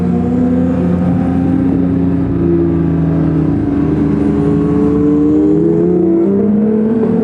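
A Porsche 992 GT3 with a manual gearbox pulls hard along a mountain road in the Smokies, its engine note loud and close as it climbs steadily in pitch and holds a strong rising howl for several seconds.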